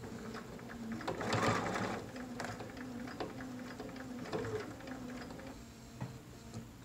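A sewing machine stitches pleats on a cotton mask, running in a close, steady mechanical chatter of rapid needle strokes that briefly slows and restarts, with light clicks between runs.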